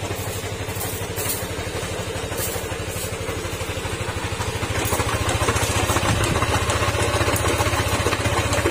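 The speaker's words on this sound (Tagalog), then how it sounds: "Yan pa yung tunog ng makina niya." A noisy Yamaha NMAX 155 version 1 scooter engine idles up close, with a steady rhythmic low putter and a light mechanical clatter that grows slightly louder midway. No one speaks.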